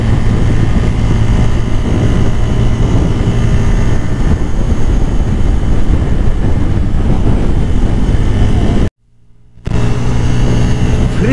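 A Bajaj N160 motorcycle runs at top speed on Mawa Highway. A loud, constant roar of wind and engine fills the recording, cut by a brief dropout near the end.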